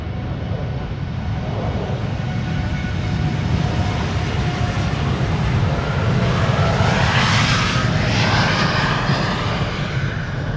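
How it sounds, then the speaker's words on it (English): An Air Canada Boeing 787 Dreamliner departs from Amsterdam Schiphol, its jet engines a loud, steady roar that swells and shifts in pitch as it passes at close range, with no talk. "Air Canada is leaving."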